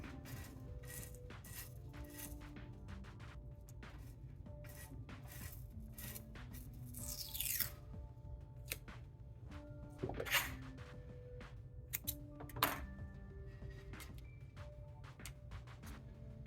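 Masking tape being flipped and handled on a fishing rod blank, with soft close crinkles, sticky pulls and small ticks in quiet intermittent bursts.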